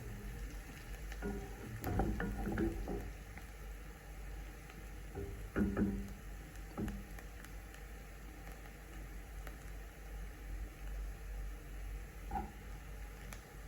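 Onion fries in a pan with a low, continuous sizzle, broken by a few louder bursts of scraping and stirring as it is spread around.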